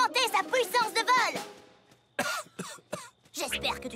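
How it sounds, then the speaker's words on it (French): A cartoon pegasus pony from My Little Pony coughs in a few short, rough bursts after a stretch of voiced, music-backed dialogue, loud and close in the mix. "J'espère que tu tousses à cause d'un grain de pop-corn,"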